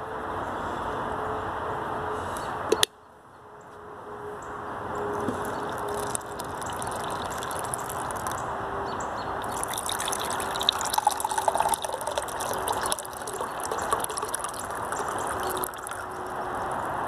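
Water poured into an MRE ration pouch (Menu 24, Southwest style) to mix it: a close, continuous trickling pour that starts abruptly after a brief click and keeps flowing steadily.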